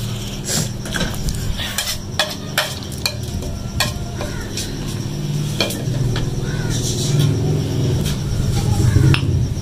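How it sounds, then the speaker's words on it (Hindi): Gram flour (besan) dry-roasting in a pan for pakoras, with steady scraping and stirring of a spoon against the metal, occasional clinks of utensils, and a soft continuous sizzle throughout; a voice is heard faintly talking in the background. "मैं बेसन पकौड़ों का बेसन भून लूँगी"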